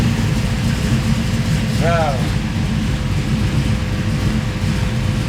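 A hot rod car engine idles with a loud, steady low rumble that fills the whole clip, close by, while a voice briefly exclaims over it.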